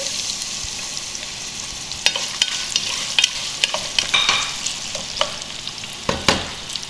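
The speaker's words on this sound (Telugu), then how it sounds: "ఇందులో బిర్యానీ సరుకులు వేసేసి కొంచెం ఫ్రై చేసుకుందామండి 1 నిమిషం" Biryani whole spices and onions frying in a pan, a close sizzle broken by repeated sharp scrapes and clatters of a spoon stirring against the metal, no talking.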